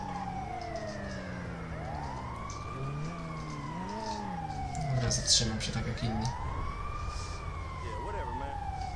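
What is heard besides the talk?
ambulance siren in the video game GTA 5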